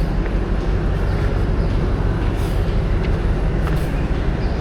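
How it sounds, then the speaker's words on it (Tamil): A passenger train rolls along a line in Sri Lanka, giving a steady, loud rumbling drone from inside the carriage with no voices. "நம்ம இப்போ போகிற ட்ரெயின் வந்து பார்த்திங்கன்னா சவுத்து நோக்கி போகிறது"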